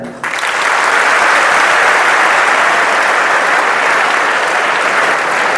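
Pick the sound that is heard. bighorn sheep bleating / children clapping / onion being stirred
children clapping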